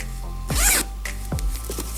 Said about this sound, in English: Okay, so we have put in the invisible zipper.